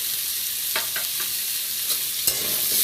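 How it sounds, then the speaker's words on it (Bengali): Black cumin seeds and bay leaf fry in hot oil as the tempering for a simple vegetarian potato curry: a steady close sizzle with a few soft stirring scrapes and one sharp clack near the end. "আলুর দম বসাচ্ছি কালো জিরে তেজপাতা ফোড়নে দিয়েছি লবণ দিলাম"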